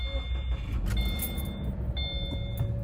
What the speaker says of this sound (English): Let me start my car.